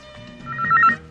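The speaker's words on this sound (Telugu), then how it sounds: "అమ్మా రింగ్ అవుతోంది." A telephone rings indoors in a Telugu comedy film scene: a short, clear electronic ring that swells to a peak and then fades, with no voices over it.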